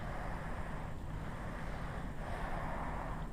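A NanoSkin AutoScrub wash mitt rubs back and forth over wet car paint with overspray, giving a steady, close, gritty scrubbing hiss with faint rhythmic swells.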